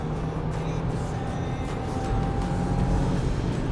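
Turbocharged 2022 Subaru WRX with FA24 engine accelerating hard from inside the cabin, a loud, swelling engine drone and road roar that builds toward the end.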